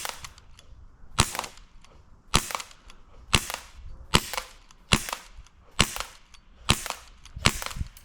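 An airsoft gun fires single sharp cracks at a steady pace, about one per second, each a crisp snap over a quiet background with no talk.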